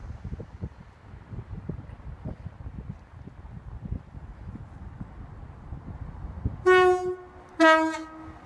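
A Greater Anglia Class 321 electric unit with a damaged front end rumbles past near Southend Airport. It then sounds a loud two-tone horn as two distinct blasts at close range.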